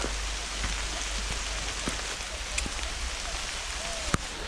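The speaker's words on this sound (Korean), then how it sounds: "지금 비가 와서 너무 좋습니다" Heavy rain drumming on a Hilleberg solo tent during mountain backpacking, a dense steady hiss with scattered individual drop taps close by and no voices.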